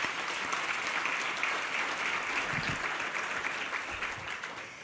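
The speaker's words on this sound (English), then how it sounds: "Let's give them a round of applause" A breakfast audience at a women-in-conservation event breaks into steady applause, a thick wash of clapping that holds at an even level throughout.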